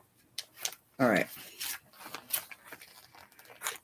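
A plastic bag is handled during a cross stitch session, giving short crinkling and rustling bursts, with one louder scrunch and scattered crackles, close by.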